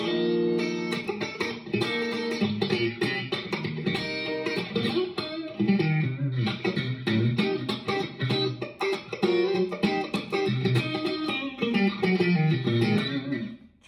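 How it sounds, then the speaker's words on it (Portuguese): A clean-tone electric guitar runs through a heavy compressor with no reverb or delay, playing a continuous funky groove of snappy, percussive notes and chords, loud and close throughout. "Então ele tá com um compressor aqui só para estacar mais a nota"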